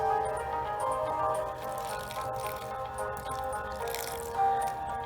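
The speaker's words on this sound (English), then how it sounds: "I better not pour it all out." Green water poured from a container makes a faint, steady trickle of drips that sits low beneath a constant background hum.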